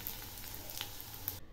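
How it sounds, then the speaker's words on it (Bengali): Onions fry lightly in a pan with a soft, continuous sizzle and occasional crackles, fairly faint and alone, cutting off abruptly at the end. "পেঁয়াজগুলো হালকা করে ভাজবো"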